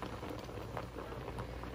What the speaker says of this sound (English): My rice is bubbling.